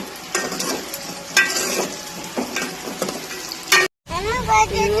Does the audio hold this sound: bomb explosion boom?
no